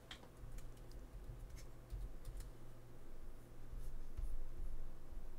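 Keys tapped on a computer keyboard while a drive name is entered during a macOS install: a quiet, irregular run of light clicks at close range, with no talking.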